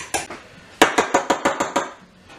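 An egg beaten in a bowl for banana bread: quick, sharp clinks of a utensil against the bowl, a couple of strikes followed by a fast run of about six evenly spaced hits, close and clear.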